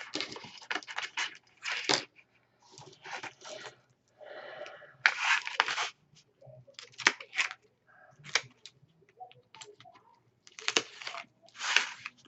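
Excess paper is snipped away in a craft project, with repeated crisp scissor cuts and faint paper rustles, close and fairly quiet.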